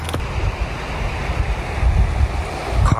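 A clear river in a mountain valley rushes steadily nearby, a loud, continuous broadband wash of flowing water with some low wind buffeting and no talking.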